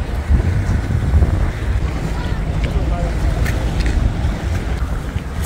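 Strong wind buffets the microphone in a continuous low roar in the Kawaguchiko area near Mount Fuji, gusting steadily throughout with no speech.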